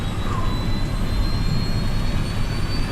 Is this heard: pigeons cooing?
no